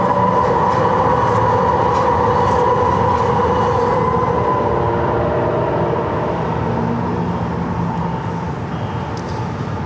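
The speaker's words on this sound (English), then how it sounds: "Yeah, the trains keep on." A train passes close by in San Diego near the airport, a loud continuous rumble and rolling wheel noise that holds steady and eases slightly toward the end, with no voices.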